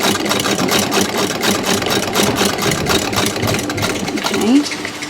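A sewing machine stitching a tuck runs in a steady, fast mechanical rhythm close by for several seconds, with a brief squeak or slowdown near the end.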